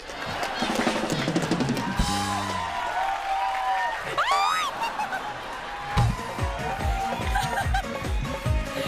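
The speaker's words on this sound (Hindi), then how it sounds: "रवीना मैम के लिए जोरदार तालियां।" A studio comedy audience applauds and laughs loudly, with claps mixed with chuckles and a whoop, while music and voices rise and fall around them.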